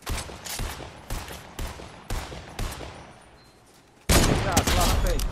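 Rapid gunfire in the Fortnite video game, a series of sharp shots followed by a louder, denser burst of fire at the end.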